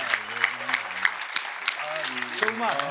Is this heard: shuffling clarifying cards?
no